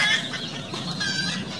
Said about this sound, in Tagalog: yung mga alaga nating mga ducks